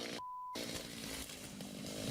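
A chainsaw runs while cutting down a tree, a loud, steady buzzing roar that cuts out briefly early on and then resumes at full drone, with no voices over it.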